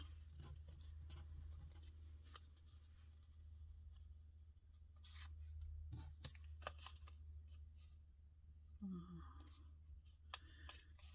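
Paper being torn by hand for junk journal embellishments, several short ripping bursts over a low background hum, close and fairly quiet.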